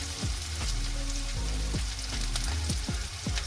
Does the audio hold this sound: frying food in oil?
yes